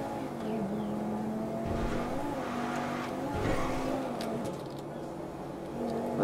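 A car engine drones steadily while driving in GTA V on PC, a continuous mid-level hum with shifting revs and faint tire noise and no pauses.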